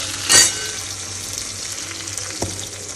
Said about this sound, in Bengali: চলো কুমড়ো আলুর তরকারি হচ্ছে